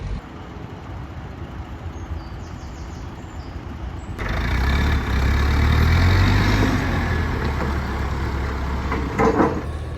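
A heavy diesel crane engine idles, then revs up and grows louder as it strains lifting a narrowboat at a marina, with a rumbling low drone and occasional clanks near the end.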